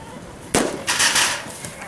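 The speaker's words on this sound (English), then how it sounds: "I was asked about shooting with a .22" A single sharp crack from a .22 rifle, short and fairly close, followed by a brief noisy rustle and faint background, no voices.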